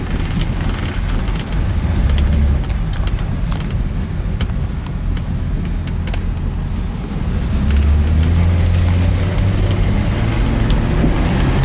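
A 1967 Chevrolet Camaro drives along with a steady, loud engine drone and road rumble that swells slightly as it picks up, heard from inside the car with no talking.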